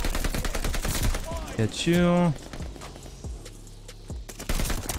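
Rapid bursts of STG assault rifle fire in Call of Duty Vanguard multiplayer, sharp and close, starting and stopping between quick spoken remarks from a player, with a whooshing game effect in the middle.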